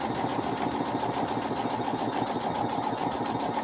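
A sewing machine stitches a foundation paper pieced quilt block with a fast, even, steady mechanical whir and tick, running continuously and close by.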